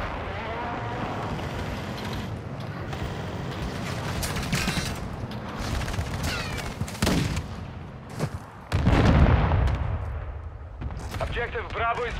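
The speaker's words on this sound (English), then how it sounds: "Hostile precision airstrike" Precision airstrike explosions and gunfire in the game Call of Duty: Modern Warfare II, a dense, loud barrage of blasts, bursts of shooting and mechanical clatter, with heavy booms near the end and game voices speaking throughout.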